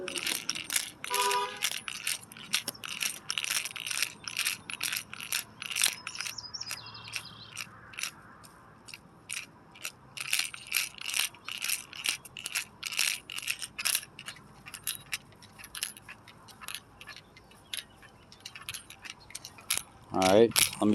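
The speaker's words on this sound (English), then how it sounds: "Okay, it says to shake can gently." An STP Pro Series intake valve cleaner aerosol can is shaken gently, its mixing ball rattling in a long run of quick, light, regular clicks close by. Faint mechanical clinks come and go, with no clear talking.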